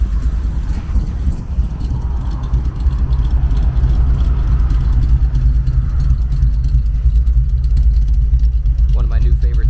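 A 1959 Chevy with Tri Power and side exit exhaust rumbles loudly and steadily at close range, a deep throaty exhaust drone that holds throughout with a slight rise partway.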